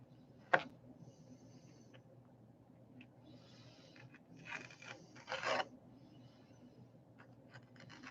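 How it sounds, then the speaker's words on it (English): Watercolor paper is torn by hand for a deckled edge, giving faint, close rasping tears in short bursts over a quiet background, with one sharp click near the start. "I'm going to tear away from me now. Tearing away from me is a little bit better."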